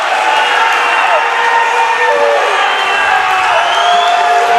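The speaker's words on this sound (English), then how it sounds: "Crowd doesn't like it" A basketball crowd in a high school gym boos and murmurs in sustained disapproval after an offensive foul call during a varsity boys' game between Portland High and Cheverus, loud and steady throughout.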